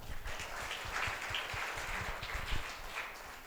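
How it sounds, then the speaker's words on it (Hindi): A church congregation claps together in a dense, continuous burst of applause, fairly soft and distant, lasting throughout. "जोरदार ताली बजाना।"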